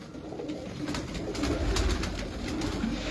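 Salara pigeons at a Lahore loft coo softly in low, throaty bursts, faint and fairly close, over a quiet background.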